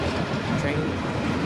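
A CPKC freight train passes nearby in late March with a dense, continuous roar of wheels and rolling cars, loud and steady throughout.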